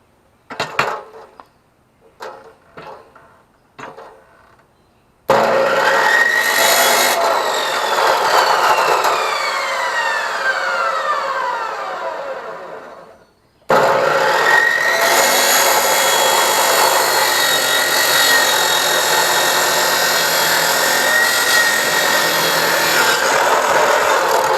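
A power saw cuts through wood for a utility trailer, starting with a few sharp knocks, then a loud sustained whining cut that drops out briefly and resumes at full strength close by, with no talking.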